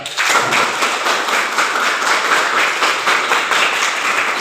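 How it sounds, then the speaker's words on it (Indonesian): A group of people claps together in a steady, dense burst of applause that holds evenly from start to finish. "Kita tepuk tangan pada diri kita semua dulu, ayo."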